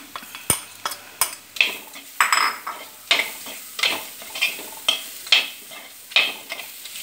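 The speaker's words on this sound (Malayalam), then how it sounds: "നമുക്കിനി സവാള ചേർത്ത് കൊടുക്കാം" Onion stirred and sautéed in a pan with ginger and green chili while cooking chicken thoran: a steady sizzle under regular, close scrapes and clinks of a spoon against the pan, roughly one or two strokes per second.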